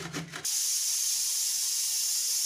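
A pressure cooker on a gas stove, cooking for coconut barfi, lets out a loud, steady hiss of escaping steam that starts abruptly after a brief rattle and continues unbroken to the end.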